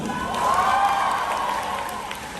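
A student audience at a Model United Nations conference in Dhaka breaks into sustained applause and cheering, swelling louder early on and holding as a steady, dense crowd roar.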